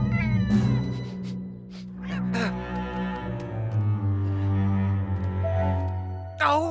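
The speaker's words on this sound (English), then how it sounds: "I really don't like cats!" A cartoon cat in an animated Peter Rabbit Easter adventure lets out a string of drawn-out, wavering meows and yowls that rise and fall in pitch, loud and close, with a sharp cry at the end.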